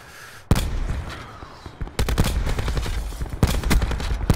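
Close, loud bursts of automatic gunfire in Call of Duty Black Ops 4 Blackout, with sharp single cracks setting off rapid volleys that rattle on for a second or more amid echoing shots.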